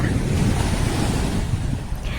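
Evening sea at sunset with steady surf washing continuously, mixed with gusty wind buffeting the microphone and no clear break in the rushing roar.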